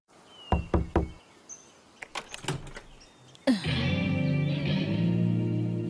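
In a cartoon, a few sharp knocks rap on a door, then come scattered clunks and a door swinging open into a sustained, louder whooshing, whirring effect.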